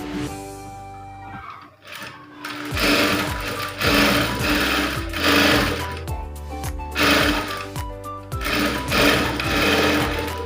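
A sewing machine stitches the front piece of a blouse in rapid mechanical bursts, starting and stopping several times with a short pause early on, loud and close.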